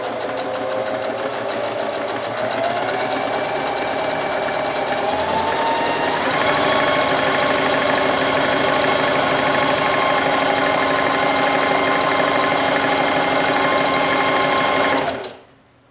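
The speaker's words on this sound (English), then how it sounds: "first I'm going to start sewing these ribbons, try throwing a stitch right through the middle of the flat side" Sewing machine stitching flat ribbon straps for fabric face masks, a steady, loud motor whir with rapid needle chatter running continuously for about fifteen seconds before stopping abruptly.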